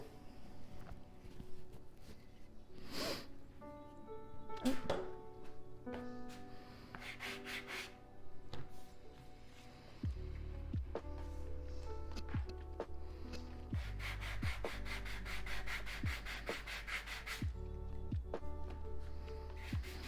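Wood is sanded by hand in a quiet craft workshop, giving faint scratchy rubbing strokes in uneven bursts, while soft background noise from an audiobook plays faintly and a steadier low hum enters halfway through.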